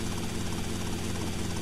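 Helicopter in GTA Vice City, a steady loud engine-and-rotor drone with a throbbing low hum, continuous and close with no talking.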